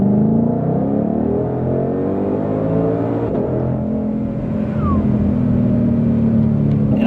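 2020 Shelby GT500 accelerating as the throttle is rolled on, a loud, close engine drone rising steadily in pitch with no talking over it.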